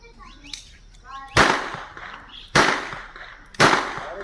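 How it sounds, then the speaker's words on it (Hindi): Three sharp, loud gunshots fired in celebration, spaced about a second apart, each ringing out with a brief echoing tail over faint background noise. "एक और हर्ष फायरिंग का मामला"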